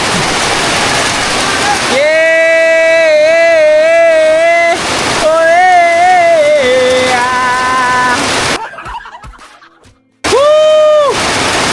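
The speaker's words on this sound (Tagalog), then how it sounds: "Ang lakas ng ulan." Heavy rain pours down as a loud, constant hiss and roar. Excited people shout and cheer over it, and the downpour briefly fades before returning at full strength.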